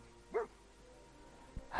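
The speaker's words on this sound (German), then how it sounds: "Hat der Hund was gegen uns?" A dog in the video game Fallout 4 gives a single faint, short bark, then a quick yip near the end after a brief thump, heard over quiet background ambience.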